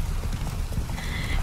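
Horse hooves clip-clopping in a steady rhythm in the Witcher 3 video game, a close, moderate trotting patter.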